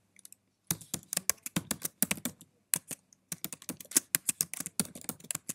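Rapid bursts of typing on a computer keyboard while entering a username during WEM 10.5 server setup, crisp close key clicks in uneven clusters with short pauses between them.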